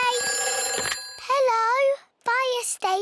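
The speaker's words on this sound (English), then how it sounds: "It's the fire phone. Oh, can you answer it, Peppa?" A fire station telephone in a cartoon rings with a bright electronic bell for about a second, then a voice speaks over short melodic bursts.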